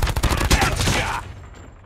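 Gunfire in Call of Duty, loud and close, fired in a quick rattling burst of shots that ends abruptly and leaves a fading echo tail.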